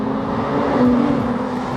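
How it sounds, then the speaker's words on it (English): A Ferrari F8 Tributo engine hums steadily, with a smooth sustained tone and a brief rise in pitch partway through, heard close and alone. "I love the sound of the engine."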